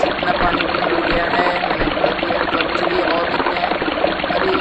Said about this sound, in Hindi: इसमें भर देते हैं थोड़ा सा पानी